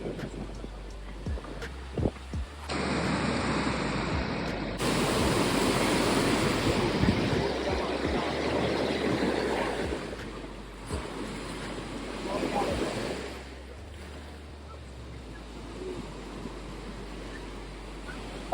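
Waves surge and wash in on a Florida beach, loud broad swells rising and receding close to the mic with wind buffeting, and people briefly talking between surges.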